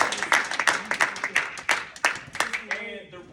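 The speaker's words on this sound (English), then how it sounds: "All right, clap it up for Tim." A seated audience at a community talk gives a short burst of clapping for a young man, scattered claps that thin out after a few seconds while a voice talks through it.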